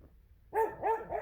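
A dog barks twice in quick succession, somewhat distant and fairly quiet, the sharp yelps standing alone against a faint background with no talk.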